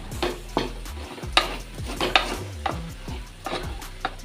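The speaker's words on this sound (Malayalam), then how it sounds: "പിന്നെ നമ്മൾ നേരത്തെ സ്ലൈസ് ചെയ്ത് വെച്ച തക്കാളിയും കൂടെ അതിലേക്കിട്ട് നന്നായിട്ടൊന്ന് ലോ ഫ്ലെയിമിൽ വെച്ചിട്ട് നന്നായിട്ടൊന്ന് മിക്സ് ചെയ്തെടുക്കുക." Green peas masala with sliced tomatoes cooking on a low flame, stirred with repeated spoon scrapes and knocks against the pan over a gentle sizzle, close and clear with no talking.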